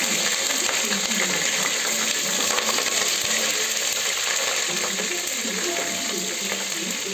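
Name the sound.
mustard seeds and cumin sizzling in oil for tempering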